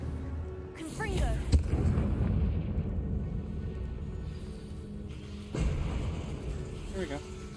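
The Confringo fire spell in Hogwarts Legacy bursts with a deep, rumbling explosion near the start, followed by a second boom later, set amid game sounds with a person talking in between.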